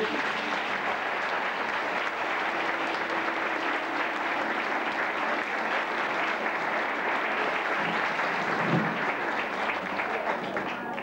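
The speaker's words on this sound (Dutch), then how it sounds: "Dames en heren, nogmaals applaus voor Jaap Onjoen." A circus audience at a 1985 festive evening on Terschelling claps steadily in a dense, loud, even wash of applause that holds for the whole stretch, with faint voices mixed in.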